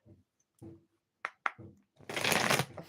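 A few soft taps and quick riffles lead into a loud, rushing shuffle of a deck of playing cards during a card reading, close and crisp.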